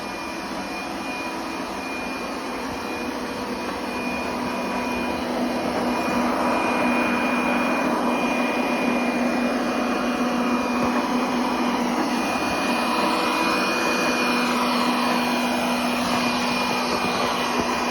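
OKP K8 robot vacuum cleaner running on carpet in auto mode, giving a steady, close whirring motor drone with a high whine that holds for the whole stretch and grows slightly louder partway through.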